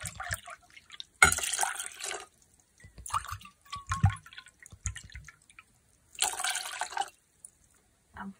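Water pours into a pot holding blueberries in two splashing bursts with quieter drips and clinks between them, close by and with no talk.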